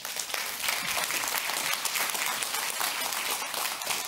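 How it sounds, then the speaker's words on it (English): Dense, steady applause from a conference audience in a large hall at a cybersecurity event, many hands clapping continuously at an even loudness throughout. "Please welcome with nice applause."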